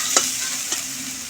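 Cumin, coriander and turmeric powders stirred in a pan, with two short scraping strokes over a soft, constant sizzle.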